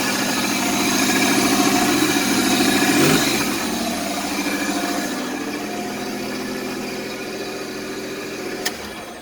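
A Pontiac Fiero engine under restoration revs up, then settles into a steady idle, loud and close, with a brief sharp click near the end.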